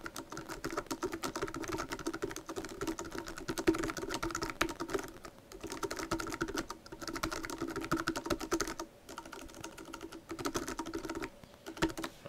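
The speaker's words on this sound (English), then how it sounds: "I usually type better than that" A comment is typed on a computer keyboard as a steady close patter of keystrokes with brief pauses, and no voices.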